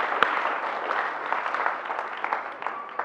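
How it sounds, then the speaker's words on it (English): Audience members at a STEAM camp clap together as a group, a steady moderate patter of hands lasting a few seconds with no one speaking, fading slightly at the end. "Give yourselves a big hand clap."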